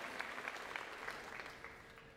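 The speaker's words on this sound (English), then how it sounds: "let's give them all a round of applause for their hard work and excellent job on their speeches" Faint, steady applause from an audience at a 2014 Arkansas 4-H State O-Rama campaign rally, heard from a distance as a continuous patter with a few sharper claps and no talk over it.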